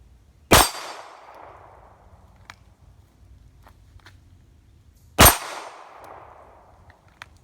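Two sharp metallic clangs ring out a few seconds apart as Glock 42 pistol rounds strike a steel target, each with a quick ringing decay, faint rustling between.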